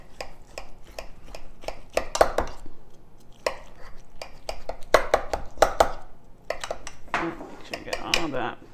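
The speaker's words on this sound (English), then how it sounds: "I like to use a steak knife that's serrated. It gets through all the layers nicely." A serrated steak knife saws and scrapes through the layers of a fajita pie in a pan, with repeated short cutting strokes and metallic clicks against the pan, mostly unbroken by talk.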